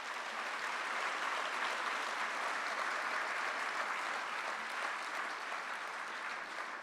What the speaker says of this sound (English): Let's give all of our winners tonight one last round of applause.